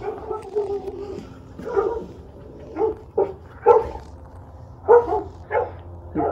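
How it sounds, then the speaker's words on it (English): A dog barks in a series of short, mid-distance woofs and yips spaced irregularly during a Halloween trick-or-treat outing, with people talking quietly between the barks. "What a dog is barking?"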